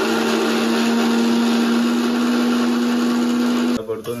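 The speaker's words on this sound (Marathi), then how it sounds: "बघा बटन चालू केलं नाही आणि मिक्सरचे बटन फिरवतोय." A kitchen mixer grinder, grinding roasted coconut for a mussel curry, runs with a loud steady whine, then cuts off abruptly near the end.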